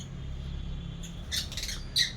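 Pet lovebirds give a few short, sharp squawks and chirps over a low steady hum, two brief calls close by and fairly quiet.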